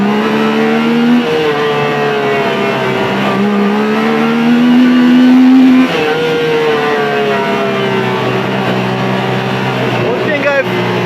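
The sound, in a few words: Yamaha YXZ engine revving with free air box mod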